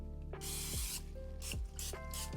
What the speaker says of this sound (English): Please spray your parchment.